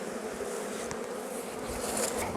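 Agitated honeybees swarm around a hive in a steady, dense, close buzz that holds at an even level throughout, with no voices.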